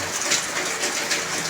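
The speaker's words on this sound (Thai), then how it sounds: "ฝนตกหนักมากในชนบทของจังหวัดสุรินทร์เนาะ" Heavy rain pours with strong wind in a rural village in Surin, a dense, loud, continuous roar with gusty swells and no voices.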